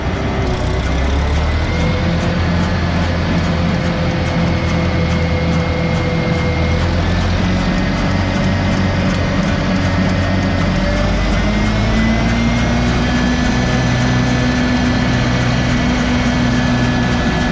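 A GEHL 100 machine's engine runs steadily after start-up, a loud, continuous low rumble with a slight pitch rise partway through as it settles into a smooth idle.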